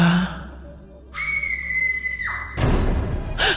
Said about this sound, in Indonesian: ada suara jeritan yang terdengar nyaring